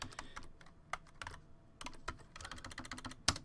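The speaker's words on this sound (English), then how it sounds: "if I can type it right" Quick, irregular typing of letters on a computer keyboard during an animation rigging tutorial in Moho, a close run of light clicks with brief pauses and no speech.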